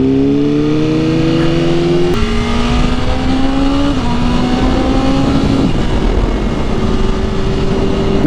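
BMW M1000RR motorcycle exhaust revving hard, a loud close engine note climbing through repeated rising sweeps as it winds up, steady and alone with no talking.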